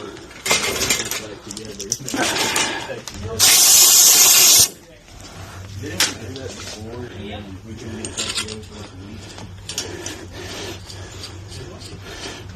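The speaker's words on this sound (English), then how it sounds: "Let me see that air hose." Compressed air bursts from an air hose in a shop where a shotgun barrel is being threaded for chokes, giving a loud, sharp hiss lasting about a second, with scraping handling noises and people talking around it.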